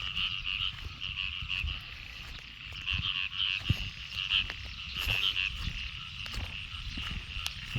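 Frogs croaking at night after heavy rain in a Thai rice field, a dense continuous chorus of overlapping calls with a steady high trill and lower croaks, close and loud, no voices.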